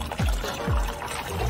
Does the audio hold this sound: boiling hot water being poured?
yes